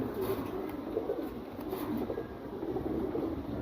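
Khaki pigeons coo steadily in a loft, a continuous low murmur of overlapping calls from several birds close by, with no talk over them.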